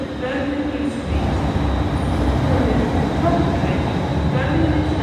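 Inside a London Northwestern Railway train bound for Crewe, a loud, steady rumble of wheels and carriage fills the cabin, with faint voices beneath it.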